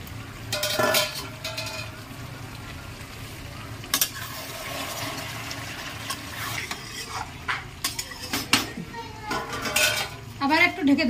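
Chicken curry with potatoes is stirred in a pot once the large lid comes off, bringing metal clanks, scraping spoon strokes and a soft simmering sizzle. Bursts of clatter come near the start and end.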